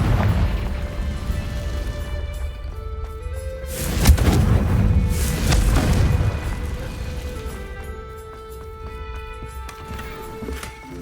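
In Hogwarts Legacy, the Confringo blasting spell goes off with a loud booming burst and a crackling, rumbling tail, followed by further impacts and lingering magical tones, with no one talking over it.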